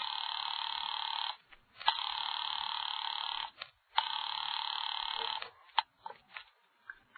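A telephone rings on the line in a radio drama, three long electronic ring bursts separated by short pauses, loud and close, followed by faint clicks and rustles.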